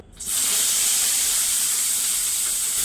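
Eggplant, green chillies and curry leaves hitting hot oil in a pan, a sudden loud sizzle that starts after a brief quiet moment and holds as a steady bright hiss.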